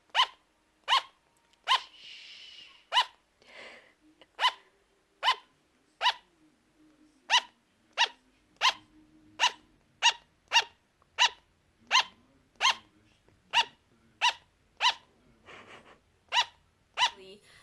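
A pet sugar glider barking nearby, sharp, regular yaps about once a second continuing for the whole stretch, with faint breathy sounds between some barks.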